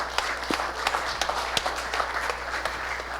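A round of applause from the audience at a British Overseas Voters Forum presentation, steady clapping across the whole stretch with a few sharper claps standing out, heard alone without voices.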